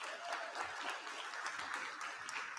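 Audience applause at a virtual academy graduation commencement as cum laude students stand, a steady, faint-to-moderate patter of many clapping hands with no talk.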